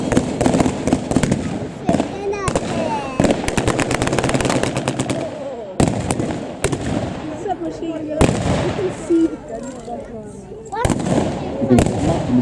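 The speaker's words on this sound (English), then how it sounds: "The machine guns opening up. Deadly fusillade." Mortar blasts and crackling machine gun and rifle fire ring out at an outdoor Second World War battle reenactment by a factory, with sharp loud cracks, fast rattling bursts and an announcer talking over the din.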